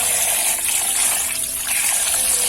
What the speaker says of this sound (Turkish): toyuğu e, krandın altına gətiririk və e, toyuğumuzu yumağa başlayırıq